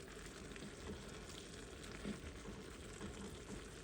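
Sausage, black-eyed peas and greens sizzle and bubble steadily in a skillet, with faint scraping of a utensil stirring through it, no voices.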